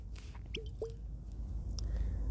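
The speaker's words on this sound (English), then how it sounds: "Let's pour a dram of this." A small dram of Suntory Yamazaki single malt whisky is poured from a 300 ml bottle with a corkscrew cap, giving a few soft glugs and drips, quiet and close over a low room hum.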